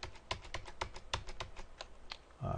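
Computer keyboard keys pressed in Audacity to undo, a quick irregular run of sharp clicks at close range, with a thump at the end.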